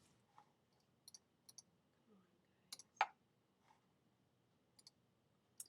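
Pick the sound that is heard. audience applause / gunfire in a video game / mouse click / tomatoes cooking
mouse click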